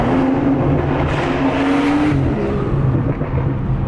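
Tuned BMW 340i with a JB4 tune running on E85, accelerating hard through a tunnel; loud, close engine drone with a rising tone that climbs, dips at a shift and climbs again, echoing off the walls.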